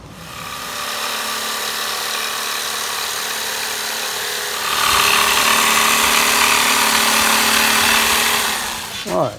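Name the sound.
power tool cutting out a shifter console board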